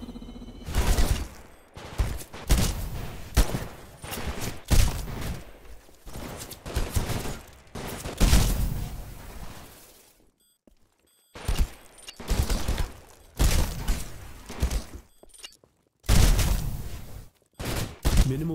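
Heavy weapon fire in the sci-fi shooter Titanfall during a live-fire training exercise, with repeated loud bursts of shots broken by short pauses, close and punchy throughout.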